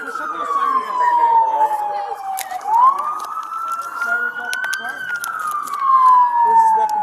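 Police car sirens wail at a scene where officers rush to aid one of their own, rising and falling in loud sweeping tones, close by, with a second siren layered in and brief sharp knocks.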